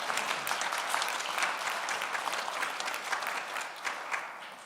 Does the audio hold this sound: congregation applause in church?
yes